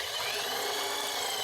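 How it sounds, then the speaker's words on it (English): A drill bores out a metal collar from 1/2 inch to 3/8 inch during a 2001 Jeep TJ steering repair, making a loud, steady grinding whine that holds unbroken throughout, with no talk. "To bore out this collar from 1/2 inch to 3/8"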